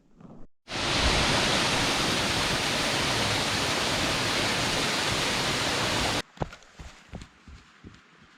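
Narada Falls at Mount Rainier roars as a loud, steady wash of rushing water for several seconds, then cuts off to quieter outdoor sounds with footsteps or handling noises.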